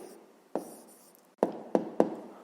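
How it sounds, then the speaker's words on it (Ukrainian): Pen on paper as a math answer is written down, a few soft scratching strokes broken by four sharp taps or clicks against the desk, close and quiet with no talk. "То записуємо відповідь."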